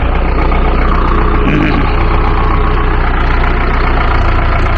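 A farm tractor engine idles steadily and close by during the wheat harvest season, with a constant low, throbbing rumble and no break or change in pitch from start to finish.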